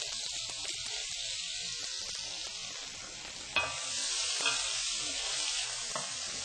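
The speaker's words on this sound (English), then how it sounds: "And I'm going to saute this till I have a nice color." Chorizo sautés in virgin olive oil for paella, giving a soft, even sizzle with a few light stirring knocks partway through.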